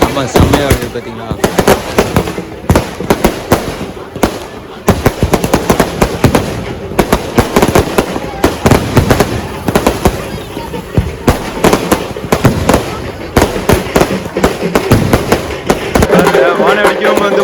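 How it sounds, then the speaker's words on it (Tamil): Sky fireworks crackle and burst in rapid dense volleys at a Gangai Amman temple festival in Vellore, loud and continuous with sharp repeated bangs, while people's voices mingle underneath. "வான வெடிக்கவும் வந்து பார்த்தீங்கன்னா ரொம்ப அற்புதமாக இருக்குது பேக் சைடில்"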